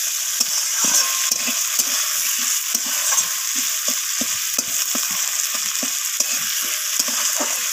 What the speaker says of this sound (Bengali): এরপর আমি এখানে দিয়ে দিলাম কেটে রাখা টমেটোগুলো। তো টমেটোটাকেও আমি সব কিছুর সাথে একটু ভেজে নিচ্ছি।